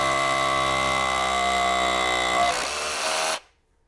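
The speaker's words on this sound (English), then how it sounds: "let's just drill into the concrete" A power drill whines steadily and loudly for about three seconds while drilling into a concrete deck, its pitch shifting slightly before it cuts off into silence.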